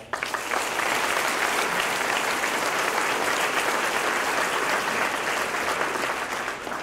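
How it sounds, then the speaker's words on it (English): Audience at the 2019 ECU baseball banquet applauds in a steady, dense wash of clapping that stays loud and even for about seven seconds, with no talk over it. "Justin Blanton, Mo Blackwell, and Sean Ward, they deserve a big round of applause."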